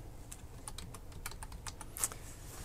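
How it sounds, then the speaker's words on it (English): Keys clatter on a computer keyboard connected through an HDMI KVM switch, a run of close, irregular taps with one sharper stroke near the end. "And so there, typing works."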